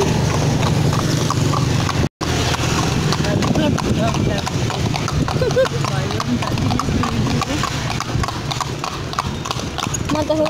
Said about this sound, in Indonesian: Eh, kuda dek.